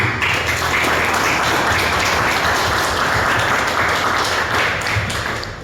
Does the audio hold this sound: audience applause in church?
yes